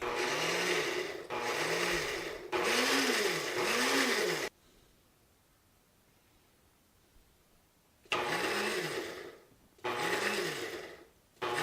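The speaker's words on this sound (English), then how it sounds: "turn my blender on, put it on pulse" A blender pulsing onion paste runs in short bursts, three quick runs, a few seconds of near silence, then two more, its motor whirring loudly up close.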